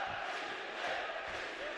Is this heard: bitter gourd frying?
no